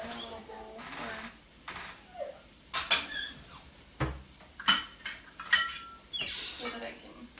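Spoons clinking and scraping as deviled egg filling with bacon and ranch is scooped into a small bowl, a run of light, sharp taps and scrapes close by, with kitchen chatter in between.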